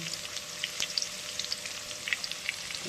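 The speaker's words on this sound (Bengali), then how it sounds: "লাল করে ভেজে নেব" Tangra fish frying in oil with turmeric and salt, a steady sizzle with a scatter of sharp pops and crackles, close and fairly quiet.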